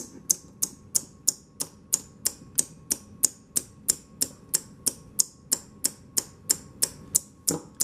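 Rapid, evenly spaced sharp mechanical snaps from a homemade chime striker, about three per second, crisp and close, running steadily with no voices.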